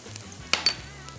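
Soft, faint sizzling of ginger and garlic frying in hot oil over high heat, with a couple of brief clinks of a utensil against the pan.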